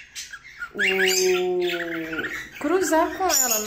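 A female cockatiel gives a strange, sustained squawking mating call, a rising, wavering cry held for over a second, then a second harsher call, with someone speaking over it.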